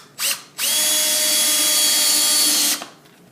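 A power drill drives screws at an angle into the vertical beams of a store shelving rack, a short burst followed by a long steady whine of the motor, loud and close, with no talking.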